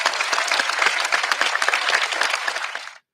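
Short burst of studio-style applause dropped into a gaming podcast, a steady dense patter of many clapping hands at even loudness for about three seconds, then cutting off abruptly.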